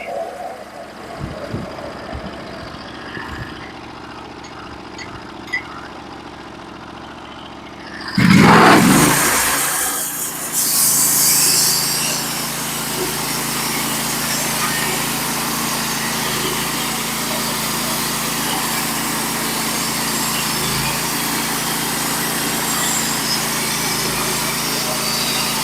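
A Norwood HD36v2 portable sawmill cuts a 5-foot cedar log: quiet idling gives way to a sudden loud engine surge, then a steady high-pitched engine and blade drone holds under the cut, with faint talk early on.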